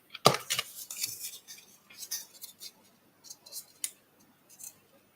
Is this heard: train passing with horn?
no